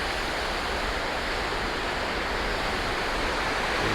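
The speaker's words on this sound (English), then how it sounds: "same kind of waterfall" Waterfall cascading into the World Trade Center memorial pool in New York, a constant dense roar of falling water, even and unbroken, with no voices.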